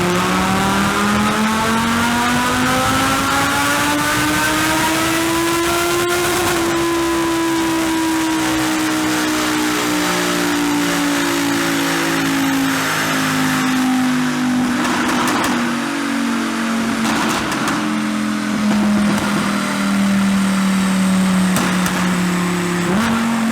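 A hypercar engine revs hard on a dyno, loud and close, its pitch rising steadily through the gears, then easing off slowly in a long droning pull with a roaring exhaust.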